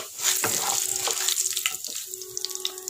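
Urad dal sizzles and crackles in hot oil over a low flame for chicken thoran, with a steady frying hiss and small irregular pops, close and moderately loud.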